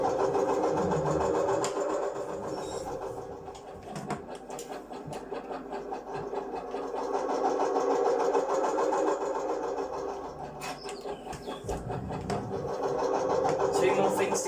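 A tractor engine runs steadily throughout, a continuous mid-pitched drone with a low rumble underneath, heard close up with some rattling and a brief surge in loudness near the end.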